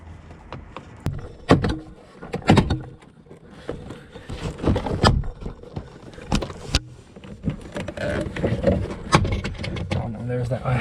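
Plastic body clips snap and pop as a car door panel is pried off its frame. Sharp, irregular cracks and knocks come close by, mixed with rustling and handling, while someone talks intermittently.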